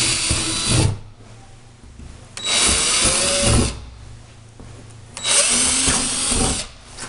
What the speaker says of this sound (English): Drill holes in each corner.